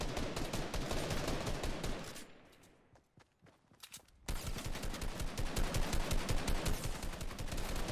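Loud, rapid automatic gunfire in the Fortnite video game, dense rattling bursts that thin to a few scattered shots for about two seconds, then resume at full, continuous intensity.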